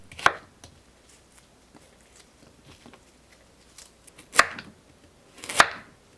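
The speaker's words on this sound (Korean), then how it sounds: "양파 반 개를 썰어 주세요." A kitchen knife slices half an onion on a cutting board, giving a few sharp, separate chops spaced irregularly, with quiet handling noise in between.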